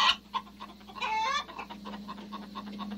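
A human voice imitates a chicken's clucking for a children's song about farm animals, with short repeated clucks, a brief squawking burst near the middle, and a steady hum underneath.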